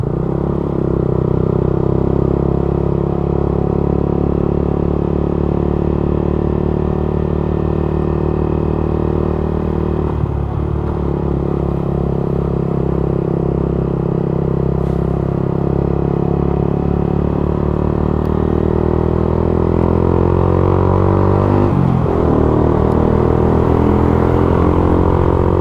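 A motorcycle hums steadily along a night road through Baluran forest, its engine drone and wind rumble loud and continuous, with pitch shifting slightly as the rider eases off and speeds up.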